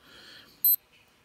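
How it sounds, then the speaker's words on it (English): Digital sport wrist watch with a big waterproof case giving one short, sharp, high electronic beep on a button push, close and clear. "Pretty loud beeps on the button pushes"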